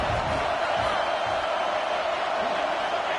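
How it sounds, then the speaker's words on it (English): An Ohio State Buckeye football stadium crowd roars on third down, a dense, steady wall of cheering and noise throughout, with a commentator's voice faintly over it. "The Buckeye crowd alive on 3rd down."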